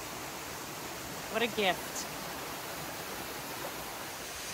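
Distant waterfall on a sunny day, a faint steady rushing wash that persists throughout, with a brief spoken phrase over it partway through.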